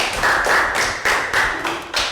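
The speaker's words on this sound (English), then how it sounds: "Round of applause for Pakboom." A small classroom group of primary pupils applauds a classmate, a short burst of rapid, fairly close clapping that fades in waves, with no talk over it.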